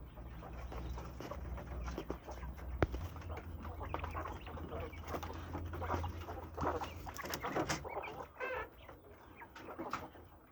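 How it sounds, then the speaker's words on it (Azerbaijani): Küt breed chickens clucking in a farmyard, soft scattered clucks and low chatter from several birds, with other bird calls and faint background noise mixed in. "Küt toyuqlarımızdır."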